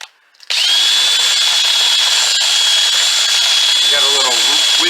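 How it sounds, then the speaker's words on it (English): A power wire brush, likely drill-driven, scours rust from the wheel bearing spindle of a 2009 Kia Borrego: a loud, close, steady high whine with scratchy abrasion that starts abruptly after a brief quiet moment and runs continuously. "we're getting this inner part of the spindle cleaned up with the wire brush"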